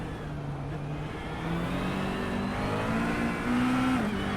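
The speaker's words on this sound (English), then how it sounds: "Well, it seems the engine is at full power." GT3 race car in a racing video game at the Algarve circuit, its engine at full power: a loud, steady, high-revving drone whose pitch climbs gradually and holds close, with no talk.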